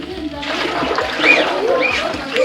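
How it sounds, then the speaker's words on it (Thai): Sticky rice washed by hand in water: close, loud sloshing and splashing with scooping swirls, while someone speaks over it. "ล้างข้าว คือนี่ข้าวเหนียวนะคะล้างยังไง"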